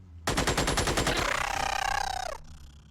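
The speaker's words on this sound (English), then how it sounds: "Suppressing fire!" Rapid automatic gunfire in the Xenonauts video game, a single sustained burst of evenly spaced loud shots lasting about two seconds, then a short pause before a sharp new sound starts at the end.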